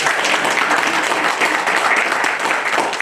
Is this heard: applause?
yes